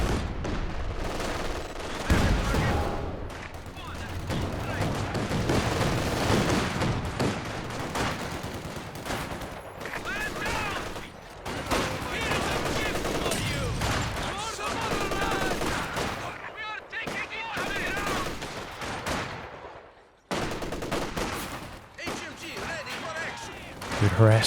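A double ZiS artillery barrage in Company of Heroes 2 with repeated dense booms and gunfire, churning continuously. A commentator's voice talks over the shelling throughout.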